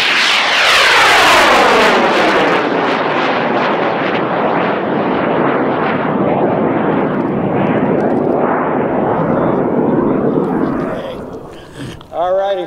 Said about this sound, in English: that's what an O-motor looks like and sounds like